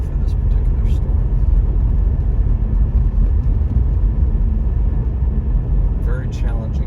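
A 2020 Chevrolet Bolt EV rolls over a few inches of snow on an icy winter road, with steady low road rumble and tyre noise throughout and a brief squeaky sound near the end.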